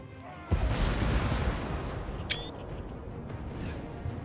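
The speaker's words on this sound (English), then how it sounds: "There are cannons already starting to unload on my line." Gunpowder cannons fire in a Total War: Warhammer battle between Dwarf and Empire armies: a heavy boom opens a long rumbling roll of distant artillery, and a second sharp report cuts through midway before the din slowly fades.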